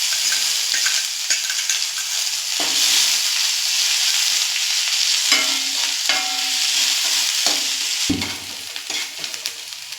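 Ground fresh coconut, ginger and green chilli paste sautéed in a hot tempering in a no-onion, no-garlic dish, loud close sizzling with repeated spatula scrapes and stirring knocks, no speech.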